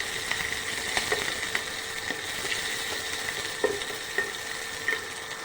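Onions frying over low heat in a home kitchen pan while being stirred: a steady soft sizzle under intermittent scraping clicks of the spoon, close and moderate in level.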